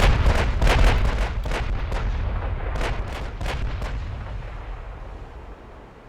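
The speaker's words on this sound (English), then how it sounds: "I'm giving him another volley." Battleship main guns fire a volley in the naval game Ultimate Admiral: Dreadnoughts, a rapid run of heavy booming blasts that fades into a rumbling tail, with no talking.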